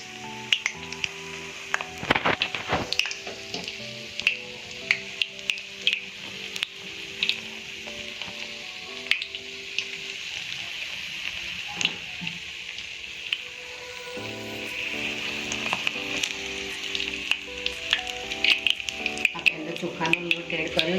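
Batter-coated spinach leaves, kept on their stems and dusted with rice flour, fry in hot oil with a steady crackling sizzle, broken by sharp pops and occasional utensil clicks.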